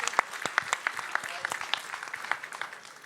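An audience claps for a girl about to ask a question at an Italian school presentation, a brief burst of sharp, distinct handclaps that thins out and fades within a few seconds.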